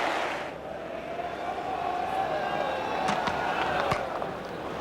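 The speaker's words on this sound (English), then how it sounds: "This crowd cheering as that's magnificently played through the onside." Cricket crowd at a one-day final between Australia and Australia A, cheering a boundary shot through the onside, a steady broad roar with scattered whoops and claps under a commentator's voice.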